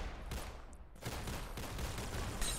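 Pistol shots fire in a Roblox shooter game, several quick cracks spaced across the moment with short gaps, moderately loud against steady game background noise, with no talking.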